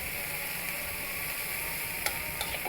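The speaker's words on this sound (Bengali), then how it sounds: "এর জন্য আমি এই তেলের মধ্যে দিয়ে দিচ্ছি পেঁয়াজ কুচি। পেঁয়াজটা একটু হালকা বাদামি করে ভেজে নেব।" Chopped onions frying in oil toward light brown, a steady close hiss of sizzling with a few faint utensil clicks near the end, no speech.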